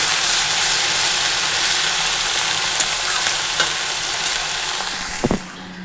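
Taro stolons fry with garlic, green chili and nigella seeds, a loud, dense, steady sizzle close by, ending with a clatter of utensil stirring before it fades.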